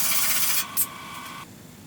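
MIG welder laying a weld on steel plate, a steady close crackling hiss that runs for about a second and a half and then cuts off, leaving quiet room noise.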